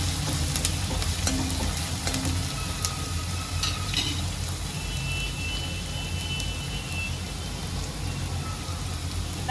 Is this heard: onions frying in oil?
yes